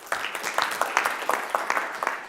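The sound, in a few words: round of applause for Kahootify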